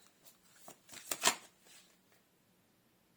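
Cards for a reading flicked and shuffled in a few quick papery bursts close by, peaking in a sharp snap as a card is pulled, then trailing into quiet.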